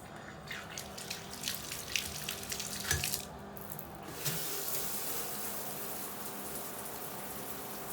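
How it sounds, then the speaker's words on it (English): Cold shower water running steadily, a broadband gushing spray that swells louder after a few seconds and continues without pause, with no voices. "I'm going to take a really cold shower in the morning"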